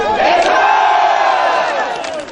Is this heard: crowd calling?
yes